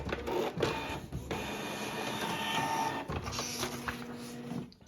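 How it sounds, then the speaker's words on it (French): A Canon MG3600 inkjet printer runs a test page, its carriage and paper feed whirring and clunking steadily up close with brief pauses between mechanical passes, no one speaking. "Vous cliquez sur imprimer. Et vous avez juste à attendre, ça va sortir de l'imprimante juste ici."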